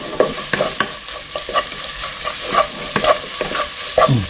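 Egg frying and stirred for beef kothu porotta, a constant sizzle broken by rhythmic spatula strikes and scrapes on the hot pan about twice a second, close up with no talking.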